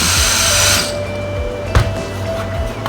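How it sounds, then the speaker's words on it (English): A drill with a countersink bit bores into screw heads from underneath. The motor whirs briefly at close range, then cuts off, followed by a few light handling knocks. "We'll just come up from the bottom and countersink those screw heads a little bit."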